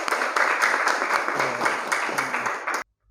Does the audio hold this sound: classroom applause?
yes